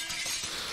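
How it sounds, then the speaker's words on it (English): A glassy shattering effect marks a mech being destroyed in a Lancer tabletop RPG session, a short, bright crash of breaking fragments, loud and continuous for under a second with no voices over it. "You completely shatter the Guardian into a million fragments with a continued burst of Cyclone Pulse Rifle."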